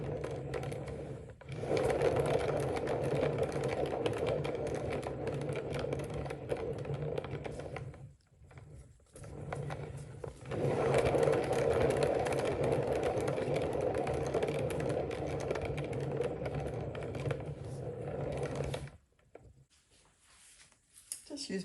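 Small spinning turntable motor used for acrylic pour painting, a steady mechanical whirr with ratcheting texture that runs in long stretches, stops briefly and restarts, faint and close.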